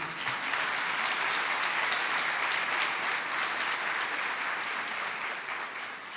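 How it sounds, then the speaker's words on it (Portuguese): A church congregation claps loudly and continuously throughout, a dense, even wash of applause with no voices standing out. "Você pode aplaudir o Senhor pela minha vida?"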